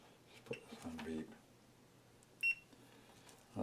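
A multimeter set to continuity gives one short, clear electronic beep while a Commodore 64 keyboard is being tested for faults. Brief speech and light handling noises come before the beep.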